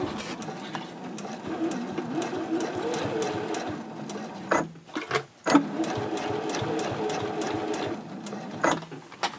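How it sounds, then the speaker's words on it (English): Domestic sewing machine stitching down binding on a zipper case, a fast steady needle chatter running nearly throughout, with two brief pauses and restarts, close and moderately loud. "I'm all set to stitch down the binding."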